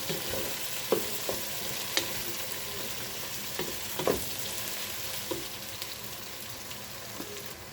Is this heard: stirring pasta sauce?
yes